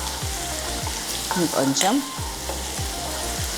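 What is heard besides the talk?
garlic paste and lentils frying in a pan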